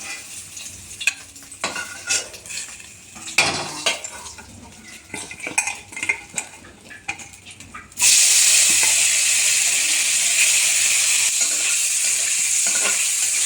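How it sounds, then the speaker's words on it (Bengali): Paneer pieces stirred in hot oil in a pan for a paneer gravy: faint scraping and utensil clinks at first, then a steady loud sizzle and hiss of frying that carries on without a break. "ওই তেলে আমার আর কয়েকটা পনির ছিল, কয়েক টুকরো, সেটা দিয়ে একটু নেড়ে চেড়ে নিলাম"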